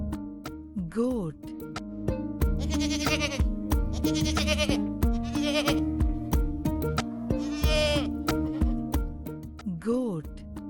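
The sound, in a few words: goat bleating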